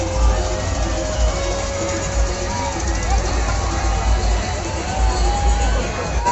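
A huge crowd throngs the Dussehra fair in Dharamjaigarh, Raigarh, Chhattisgarh, a dense steady babble of many voices with low rumble and scattered shouts, loud and continuous throughout.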